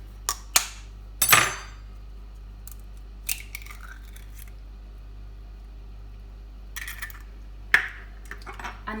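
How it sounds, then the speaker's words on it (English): Two eggs cracked into a separate bowl or jug in a kitchen, a few sharp taps and cracks spaced out over several seconds, close and fairly faint against a low hum, with no speech. "crack 2 eggs into a separate bowl or jug, making sure that there is no shell"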